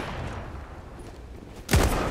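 In the video game Zula, a sniper rifle fires a single loud, sharp shot that cuts through a steady background of in-game ambience.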